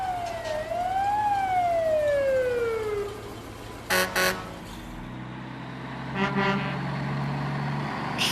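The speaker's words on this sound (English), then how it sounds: "Fire engine." A fire engine siren wails in a rising and falling sweep for about three seconds, followed by a few short blasts and horn toots over steady engine rumble.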